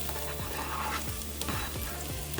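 Red onions sizzle steadily in a couple tablespoons of olive oil in a pan, a close, continuous crackling fry with a few soft stirring clicks, no talk.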